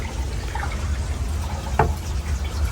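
Hot spring water at Baranof Warm Springs, Alaska, runs continuously through a toilet to flush it, a steady close trickle and splash with a brief louder drip near the end.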